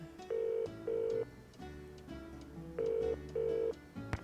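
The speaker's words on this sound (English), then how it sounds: "We can call Hugh." A telephone in the video game Nancy Drew: Curse of Blackmoor Manor rings in two pairs of electronic tones with a pause between, over a soft background of music, fairly quiet.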